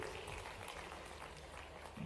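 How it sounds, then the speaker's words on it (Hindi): A crowd at a political rally in Ujjain claps in a steady, dense wash of applause that sounds distant and muffled, continuing without a break. "जोरदार ताली बजाओ नरेंद्र मोदी जी"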